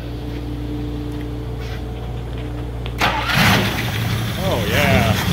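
A 1960 Buick LeSabre with a downdraft carburetor cranks briefly and catches, then roars into a loud, rough idle up close, with a man whooping over the running engine.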